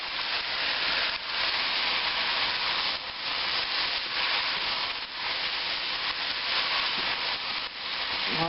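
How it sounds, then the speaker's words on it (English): Chicken and vegetables steam in a hot pan, giving off a steady, loud broadband hiss and sizzle that runs unbroken throughout, with small dips and no voices over it. "That steam coming up out of there."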